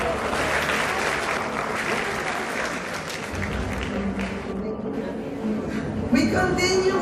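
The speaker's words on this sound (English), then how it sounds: "One round of applause for everyone." An audience applauds loudly and steadily for about seven seconds, a dense wash of many hands clapping at a club gathering, with a brief surge in intensity near the end.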